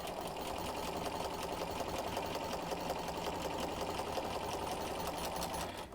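A sewing machine runs steadily, stitching a quarter-inch seam on a sampler quilt block, with a continuous close, even mechanical whir and rapid needle rhythm from start to finish.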